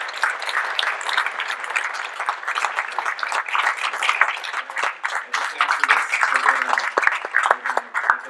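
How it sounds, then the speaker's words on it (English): A crowd applauds candidates at the close of a debate, with bursts of clapping mixed with chatter and voices throughout, fairly loud and continuous. "Let's give the candidates a round of applause."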